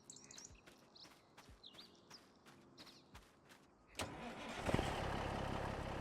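A semi truck engine starts in the Farming Simulator 25 video game set on the Judith Plains, Montana map, cranking into a loud, steady diesel idle that follows a few seconds of quieter birdsong and footsteps.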